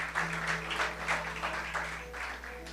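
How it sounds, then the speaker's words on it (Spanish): A church congregation applauds during a Sunday morning sermon, steady clapping from many hands filling the room, with a faint hum underneath. "Dale esas palmas a Cristo"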